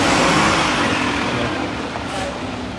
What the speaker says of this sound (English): Wait for the truck to pass.